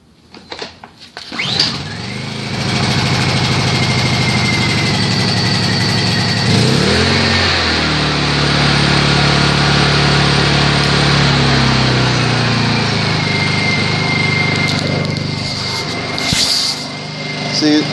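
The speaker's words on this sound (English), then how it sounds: "this one's the low hour generator." A low-hour Honda EU2000i portable generator is cold-started with a few rattling pulls, then settles into a steady, even running drone nearby, with a voice speaking briefly over it.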